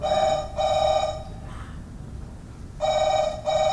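A telephone rings in two bursts of electronic trilling with a pause between them, clear and fairly loud over a faint background hum.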